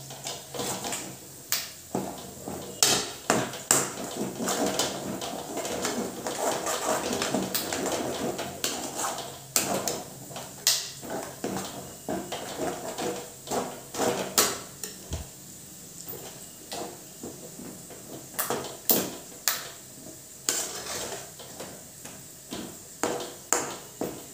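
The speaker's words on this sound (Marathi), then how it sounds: "आता आपण झाकण काढूया. आणि एकदा हलवून घेऊया." Besan being stirred in a pan after the lid comes off: repeated clinks and scrapes of a utensil against the metal pan, close and fairly loud, with no talking.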